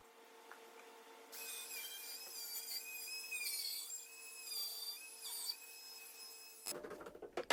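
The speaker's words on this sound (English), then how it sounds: "This offset base you can get for the Milwaukee router is incredibly nice, by the way, for edge trimming." A Milwaukee router fitted with an offset base trims cabinet edges in a workshop, a high, whining cut with wavering pitch that rises and dips for several seconds over a quiet hum, then cuts off to clattering handling.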